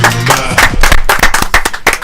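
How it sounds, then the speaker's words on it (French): An audience on a French live stream claps for Clem, a quick patter of hand claps layered over a voiced, tonal backdrop and lasting about two seconds. "Merci Clem, on peut l'applaudir"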